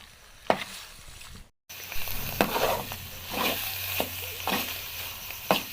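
Spinach and radish curry sizzles steadily as it is sautéed in a pan, with a spoon repeatedly scraping and stirring in sharp periodic strokes over the continuous frying hiss and a brief cut of silence.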